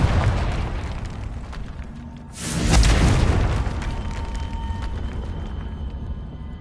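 A Confringo fire spell goes off in Hogwarts Legacy, giving one loud booming blast with a wide burst of noise. The blast trails into a rumble that lingers under the game's background ambience.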